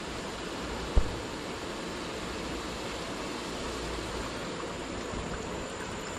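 Water rushes steadily through the cooling system of a 1998 Jeep Cherokee XJ during a flush, a constant faint hiss of flow with a single soft knock near the start and no voices.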